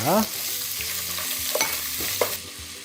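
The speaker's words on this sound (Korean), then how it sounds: "이제 콩단백을 넣고 볶아줍니다" Soy protein stir-fried with sesame oil in a pan for a vegan bulgogi bibimbap, a constant close sizzle broken by repeated scraping stirs and light spatula clacks.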